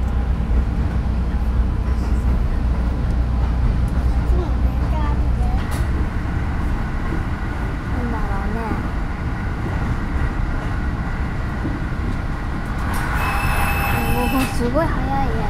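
A local train on the Furano line in Hokkaido, Japan rumbles and clatters steadily along the tracks, with people chattering excitedly over the noise.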